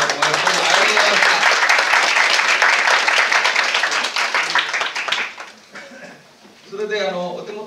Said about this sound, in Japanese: 最後にもう一度拍手で、